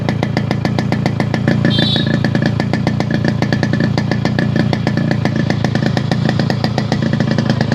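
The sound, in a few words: Yamaha RX100 motorcycle engine running after restoration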